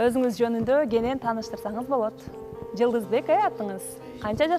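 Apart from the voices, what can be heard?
No distinct noise like a dog, phone or traffic.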